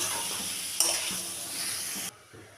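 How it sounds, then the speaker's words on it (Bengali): Cabbage fries in a pan with salt and turmeric powder, giving a brief steady sizzle with a clatter of stirring, then the sound drops away abruptly. "দিলাম নুন হলুদ গুঁড়ো ভেজে নেব ভালো করে একদম জলটা শুকিয়ে যাওয়া পর্যন্ত ভেজে নেব"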